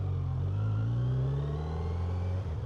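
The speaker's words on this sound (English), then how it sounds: "Bringing that buttery smooth inline 4 to life." A 2025 Kawasaki Z900 SE inline-four motorcycle engine fires up and revs with a steady, smooth, loud drone, its pitch rising gently and then easing back, close by, with no talk over it.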